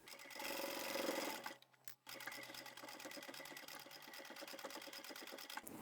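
A sewing machine backstitches a seam on a tall boxy bag, running in a fast, steady close-up whir, pausing briefly for a reversal before stitching on evenly.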